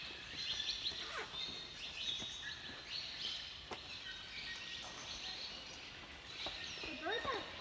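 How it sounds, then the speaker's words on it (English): Several birds chirp and squabble outdoors, a series of faint sharp tweets and quick trills scattered throughout with a busier burst near the end, over quiet background noise. "The birds are fighting over,"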